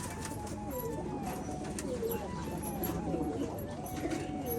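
Pigeons cooing at a home pigeon farm in Rajshahi, soft repeated coos close by under a background of birdsong and a busy ambient hum.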